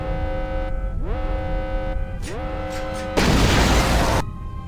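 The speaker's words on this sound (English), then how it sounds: "Yeah, throw a grenade, hope for the best." A grenade going off in Star Wars: Knights of the Old Republic II, a roughly one-second burst of broadband explosive noise that follows tonal game sounds and ambience.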